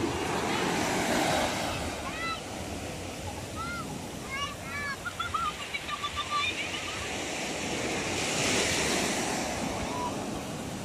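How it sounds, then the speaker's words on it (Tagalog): Waves break and wash at a beach resort shore with slightly choppy surf, a steady broad rush blended with wind across the microphone, and faint voices drifting in the middle. "Dito medyo maalon nga lang siya ng konti"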